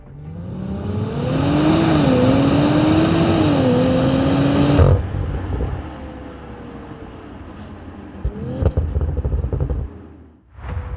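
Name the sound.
2027 Audi RS5 hybrid twin-turbo V6 engine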